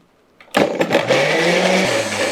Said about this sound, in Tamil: அவ்வளோதாங்க அரைச்சி முடித்தாச்சு